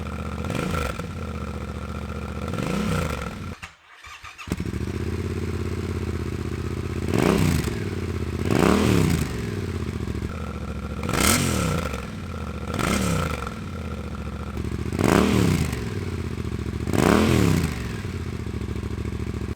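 A Yamaha Tenere 700 motorcycle with an SC Project titanium rally exhaust revs repeatedly, each throttle blip rising and falling over a steady idle rumble, loud and close.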